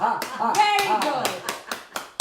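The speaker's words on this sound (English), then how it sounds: "So why do we clap our hands after this" A group clapping hands together in a laughter exercise session, seven or eight crisp, evenly spaced claps ringing out over loud voices and laughter.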